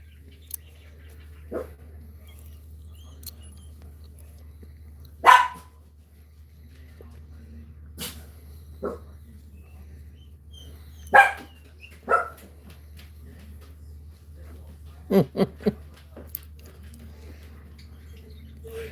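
Puppies bark in scattered sharp yelps, single and in quick clusters, against a quiet indoor background with a low steady hum.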